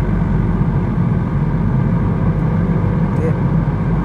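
A Honda Civic FK7 with a manual gearbox hums along under steady cabin engine and road drone, continuous and moderately loud, with gear changes not clearly set apart.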